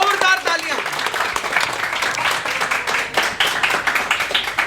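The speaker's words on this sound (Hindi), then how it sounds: "एक लड़कों के लिए जोरदार तालियां।" Loud, dense applause and clapping from an audience celebrating students at a CA exam result event, a steady broadband roar with cheering voices mixed in throughout.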